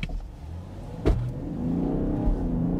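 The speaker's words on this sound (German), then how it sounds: "Ich bremse jetzt mal, Bremsen sind auch sehr gut und dann gehen wir jetzt mal aufs Gas und schauen, was der kann." A 2022 BMW X3 diesel facelift accelerates hard in sport mode from inside the cabin. A sharp click comes first, then the engine note climbs steadily as the car pulls away.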